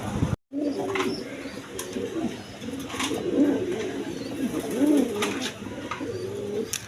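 Jharna Shari pigeons, a pair of quality birds at a loft farm, coo in repeated low throaty rolls, with steady background hiss and faint chirps.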